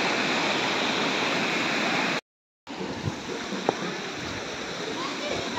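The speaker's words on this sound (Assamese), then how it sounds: "মোৰ পিছফালে পানী ধুনীয়া কৰি বৈ যাই আছে আৰু এইটো নদীৰ পিছনে বৈছে" Water of a river in the green Himalayan hills rushes over a dam in a steady, loud broadband roar, briefly cut off by a moment of silence, then resuming.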